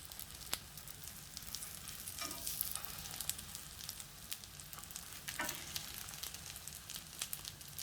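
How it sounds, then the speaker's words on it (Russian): Filled milk pancakes fry in a pan, giving a soft, steady sizzle with faint crackles and a few light clicks. The sound is quiet and continuous, and no one speaks. "Поэтому немного обжариваем с одной стороны, Перевернем."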